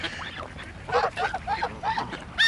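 Close ducks quack loudly in a quick run of five or six harsh, nasal calls, then one sharp squawk at the end.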